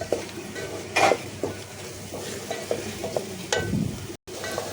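Egg ghotala cooking in a pan over a high flame: steady sizzling with repeated close scraping and clinking of a spatula against the pan.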